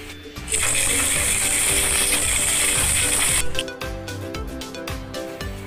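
Bicycle freewheel ratcheting, a rapid steady clicking that runs loud and continuous for about three seconds, then gives way to slower, separate clicks as the wheel coasts down.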